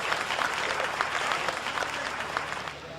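A crowd applauds at a Hindi poetry recital, dense steady clapping from many hands throughout, even in level and fairly near, tapering slightly at the end.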